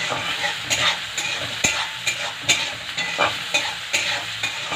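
Salted food, with spices, meat, lentils and garlic, frying in a pan and being stirred, producing a steady sizzle punctuated by regular scraping strokes of the spoon roughly every half second, close and with no voices.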